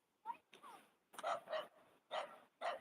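Small dogs barking somewhere off in the distance near a slag heap in Hebburn, a string of faint, sharp barks and yips in an irregular rhythm with quiet gaps between.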